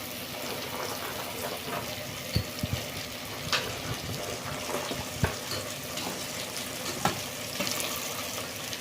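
Cut potatoes, carrots and beans sizzle and fry in a pan for wheat vegetable palav, a continuous hissing crackle broken by occasional sharp clinks of a spoon or ladle against the pan.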